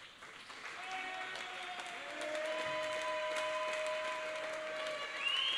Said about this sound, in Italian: Applausi per Pauletto, non sappiamo perché